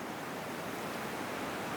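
Ocean waves as a steady, broad wash of surf, continuous and even in loudness without distinct breaks, no voices over it.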